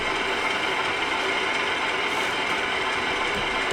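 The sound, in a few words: LokSound V5 model locomotive sound decoder, engine idling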